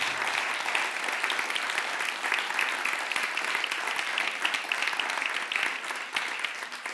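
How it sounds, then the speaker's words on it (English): Steady applause from an audience after a film screening about mRNA vaccines, an even wash of many hands clapping, moderately distant and unbroken for several seconds. "I think we can applaud."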